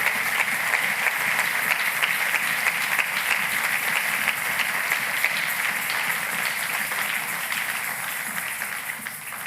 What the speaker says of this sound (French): J'aime qu'on acclame la parole de Dieu